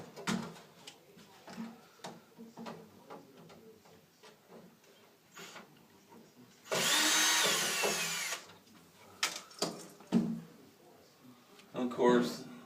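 A power drill backs screws out of an arcade cabinet. It whirs in one loud burst of about two seconds amid sporadic knocks and handling noises, with a second short whine near the end. Someone talks intermittently.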